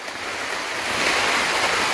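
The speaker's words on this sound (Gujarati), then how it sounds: "અત્યારે ફૂલ જોરદાર વરસાદ છે. હા દાદા ફૂલ પવને ફૂલ છે, વરસાદે ફૂલ છે" Heavy monsoon rain and strong wind sweep across the Girnar hills, a loud, steady broadband roar that swells slightly, with no voices.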